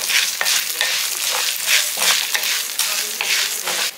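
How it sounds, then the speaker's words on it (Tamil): Ginger and garlic fry in oil with urad dal in a home kitchen pan, a dense, continuous close sizzle with rhythmic stirring scrapes surging every second or so, no voices. "இஞ்சி ஒரு துண்டு, வெள்ளைப்பூடு வந்து ஒரு 4 பல். கொஞ்சம் வதக்கினோடனே"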